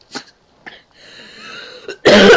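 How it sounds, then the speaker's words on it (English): A person coughs in a few short bursts with a brief throat sound between them, ending in a loud noisy burst. "Sorry about the cough."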